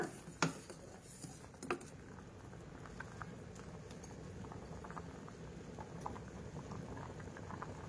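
Food simmering in a pot of water, a faint, steady bubbling patter close by with a couple of soft knocks near the start and no one talking.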